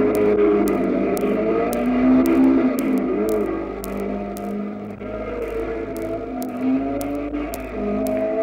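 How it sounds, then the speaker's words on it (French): A 1958 Alpine race car engine howls through corners of the Charade mountain circuit near Clermont at close to 100 km/h, a loud sustained note that swells and dips as the car accelerates and eases off. "Guichet évolue avec aisance sur son Alpine en négociant ses virages à près de 100 à l'heure"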